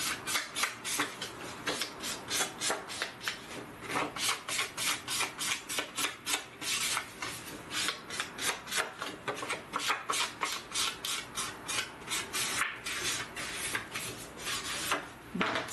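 Paper edges for a scrapbooking folio and box being inked all around, a quick, steady run of close rubbing strokes repeating in a brisk back-and-forth rhythm.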